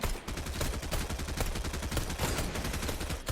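Rapid gunfire in Fortnite, a dense stream of loud close shots fired in quick succession for several seconds with no talking.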